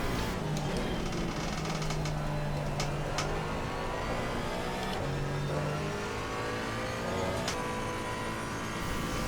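Race car engines from a Camaro and an Aston Martin in Assetto Corsa Competizione, a continuous high-revving roar that climbs and drops through gear changes, loud and sustained.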